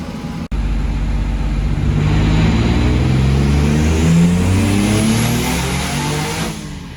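A 500 hp Nissan 300ZX with a VQ35DE engine revs hard and climbs steadily, loud and close, its note roughening and starting to break up as spark plug gap trouble sets in, then cutting off abruptly near the end.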